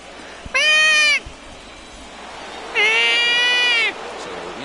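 A person imitating a cat, giving two long, loud, drawn-out meows separated by a short pause, close to the microphone over quiet background noise.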